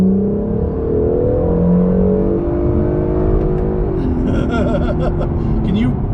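A car with a disconnected muffler drives past close by, its engine a loud, raw drone that holds steady, then climbs in pitch near the end, with voices talking over it.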